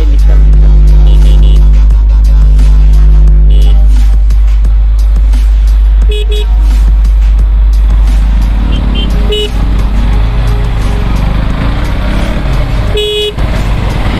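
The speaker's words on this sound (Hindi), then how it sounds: "यार सुबह सुबह आप देख सकते हो ट्रैफिक इतना ज्यादा है भाई" Heavy morning road traffic roars loudly and continuously close by, with several short car horn toots cutting through at intervals.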